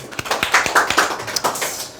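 Audience clapping at a sales seminar, a burst of scattered individual claps in an uneven rhythm at moderate distance, with no talk over it.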